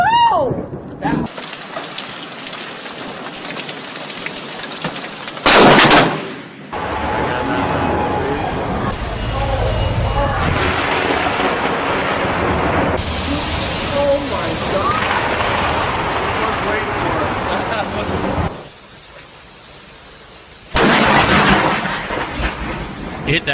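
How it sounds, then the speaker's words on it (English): Loud thunder from a nearby lightning strike that hit a tree during a thunderstorm, broadband rumbling cracks filling most of the stretch over steady rain, with excited voices talking at moments. "You know how close that lightning was?"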